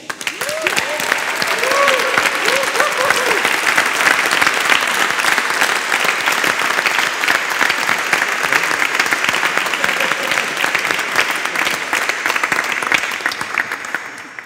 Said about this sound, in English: A big applause to these people.